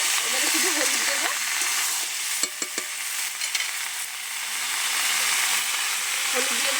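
Pieces of catla fish being stirred and fried with spices in a pan, a steady close sizzle and hiss with a few sharp scraping clicks from the stirring around the middle.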